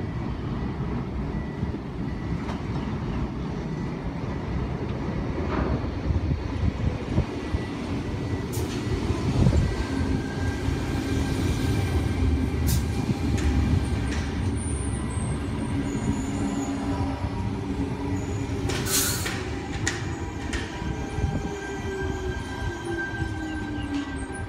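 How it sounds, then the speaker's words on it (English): A Sydney Trains Tangara electric train rumbles slowly into a station platform, wheels grinding and squealing faintly, with steady motor hum and occasional metallic clanks throughout. "we have another Tangara crawling up to platform 3"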